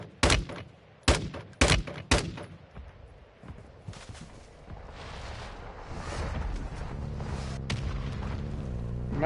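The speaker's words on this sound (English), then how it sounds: "they try to mortar the living hell out of you" Mortar rounds explode in Call of Duty Modern Warfare 2 DMZ, a rapid salvo of loud, close booms up front, then a lingering rumble and distant blasts trailing into a steady roar of fire.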